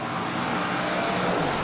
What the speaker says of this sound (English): That's Butch Creel in the Range Rover, 6-cylinder Range Rover, absolutely beautiful sounding.